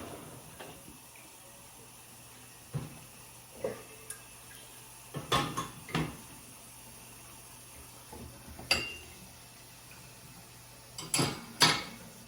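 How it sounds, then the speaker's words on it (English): Mixing bowls are set into a dishwasher in a home kitchen while brunch is prepared, giving a series of sharp clinks and clatters of dishes and racks, spaced irregularly against a quiet, faint running-water background. "we're gonna put our mixing bowls into the dishwasher"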